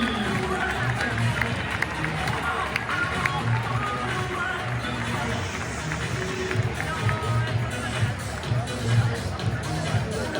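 Crowd at a football team presentation for Lorient, champions of Ligue 2, applauding a midfielder: dense, continuous clapping and cheering from many people, with voices murmuring through the noisy crowd.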